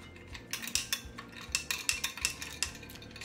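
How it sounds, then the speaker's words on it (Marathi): A spoon stirring chilled lemon shikanji with ice in a glass, giving quick repeated clinks and scrapes in an irregular rhythm, close and fairly soft. "आणि एकदा आपण हे सर्व ढवळून घेऊया छानसं."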